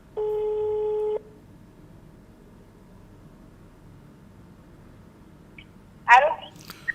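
A telephone call tone while phoning a massage advertiser: a steady electronic tone sounds for about a second at the start, followed by quiet line hiss and then a brief burst of voice at the end.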